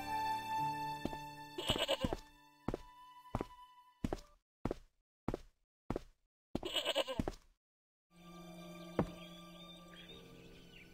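A goat in the video game Broken Sword bleats in two wavering cries, between and around a series of sharp, evenly spaced thunks like footsteps, with a steady music bed at start and end.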